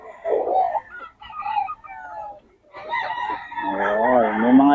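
Rooster crowing repeatedly at a poultry market in Bocaue, loud and close, with clucking fowl and a brief pause midway before a long crow; people talk faintly in the background.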